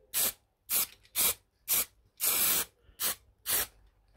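Satin black spray paint goes onto a car radiator in seven short, sharp hissing bursts, one of them slightly longer, with brief silent gaps between them. The spray is close up and sounds alone.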